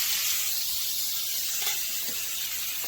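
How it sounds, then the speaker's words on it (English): Two pieces of bacon sizzling on a griddle, a steady, fairly quiet crackling hiss that holds evenly throughout, with no talking. "we only got 2 pieces of bacon, so we're going to put it on one side. Leave it alone, let it cook."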